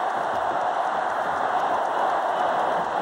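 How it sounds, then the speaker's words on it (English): A packed arena crowd roars steadily through the third period of a 1995 NHL playoff game between Pittsburgh and Washington, a dense, continuous wall of cheering and noise with no breaks. "And now the crowd is as noisy as it's been the entire afternoon."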